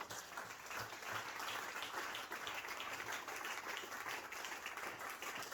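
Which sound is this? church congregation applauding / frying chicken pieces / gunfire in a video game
church congregation applauding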